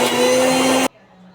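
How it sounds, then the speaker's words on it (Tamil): A mixer grinder jar grinding coconut whirs with a loud, steady motor whine that cuts off abruptly after under a second, leaving near silence. "இப்போ வந்து நம்ம மிக்சி ஜாரில் தேங்காய் அரைச்சி ஊற்றுறது தான் கொஞ்சம் பாக்கி"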